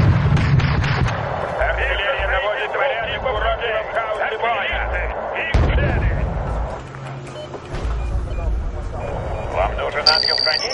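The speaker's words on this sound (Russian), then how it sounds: "Артиллерия наводит порядок в уроке в хаосе боя." Artillery fire in the military strategy game Wargame: European Escalation, deep booming blasts and rumbling under a voice speaking through a radio-like filter, with battle noise throughout.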